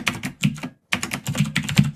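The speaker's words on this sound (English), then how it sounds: "then I'm going to hit enter on the keyboard" Computer keys clatter in quick close bursts of several presses, a brief pause near the middle, then more steady typing on the keyboard, with no voices.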